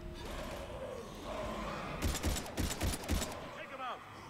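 Rapid bursts of gunfire from the Mass Effect 3 single-player demo crack out in a dense cluster partway through, loud over a steady bed of game ambience and rumble.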